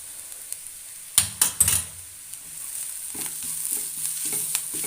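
A spatula scrapes and taps against a pan a few times while grated coconut is sautéed, then lighter stirring continues over a faint background hiss.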